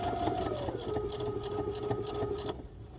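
A sewing machine stitches a fabric corner bookmark, its motor giving a steady, fast mechanical whir with a rising pitch for about two and a half seconds before it stops, leaving quiet background.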